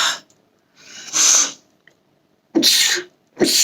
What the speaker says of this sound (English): here comes my sneeze again